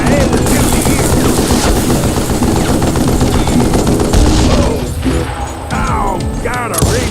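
Rapid bursts of gunfire from a Call of Juarez shootout crackle almost without pause, close and loud, with a voice speaking under the shooting. Near the end the firing thins out into a few scattered shots.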